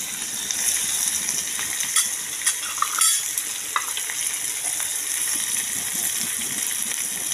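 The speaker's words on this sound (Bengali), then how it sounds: "এবার তেলে জিরা তেজপাতা ফোড়ন দিচ্ছি, পেঁয়াজ দিয়ে দিচ্ছি।" Cumin seeds, bay leaf and chopped onion frying in hot oil, a steady close sizzle with light crackles and a few stirring clinks, no talking.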